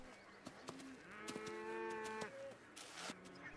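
Cattle moo on Islay farmland in the Hebrides, a couple of drawn-out lowing calls at moderate distance over faint outdoor ambience, with no voices.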